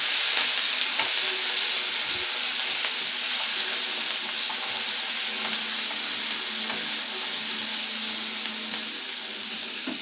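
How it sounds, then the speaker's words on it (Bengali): Chopped ginger and garlic sizzle steadily in hot oil while being stirred, a continuous close, even hiss with faint scraping, no voices over it. "তারপরে এখানে দিয়ে দিলাম আদা রসুনটাকে একটু ভালো করে নেড়ে নেব আমি।"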